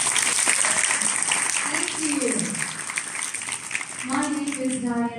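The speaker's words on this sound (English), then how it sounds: "How about a round of applause for that?" Audience applause at the launch of a foldable smartphone, a steady wash of clapping from a crowd in a hall, with a voice talking over it partway through.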